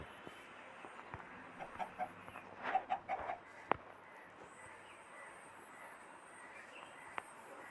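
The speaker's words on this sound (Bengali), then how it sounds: "এখান থেকে আমরা ব্রিডিং করাতে পারবো মুরগিকে" Minecraft chickens in a survival game make a few faint, brief clucks in a short cluster over quiet background game ambience, with no talking.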